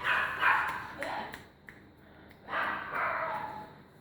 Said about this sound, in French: Moi, j'ai le chien qui crie dehors aussi